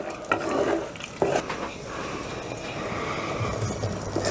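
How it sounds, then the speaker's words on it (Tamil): Jaggery syrup being stirred into a pot of sweet pongal makes a brief, close scraping and slushing with a couple of sharp knocks of the spoon against the pot. "இப்போ நல்லா மிக்ஸ் பண்ணி விட்டுக்கலாம்."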